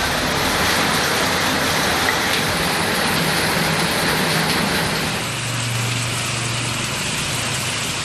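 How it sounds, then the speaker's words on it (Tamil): Heavy rain driven by strong wind, a dense, loud, continuous roar and hiss with a low rumbling undertone that eases slightly toward the end. "பலத்த காற்றுடன் பெய்த கனமழையால் வெப்பம் தணிந்தது"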